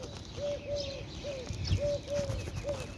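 Several birds, pigeons or doves among them, call outdoors in a repeated series of soft coos with a few higher chirps above a low rumble of background noise.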